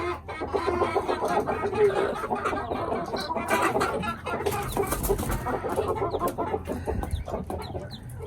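Aseel chickens cluck steadily and close by as they feed, with a brood of newly hatched chicks nearby and a few sharper calls over the ongoing clucking.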